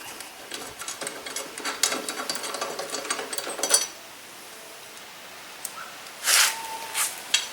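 A ratchet wrench clicks rapidly while loosening the blade bolt on an Ariens 6.75 EX lawn mower with a 180cc Briggs and Stratton engine, a dense burst of ratcheting followed by a few isolated metallic clicks and knocks.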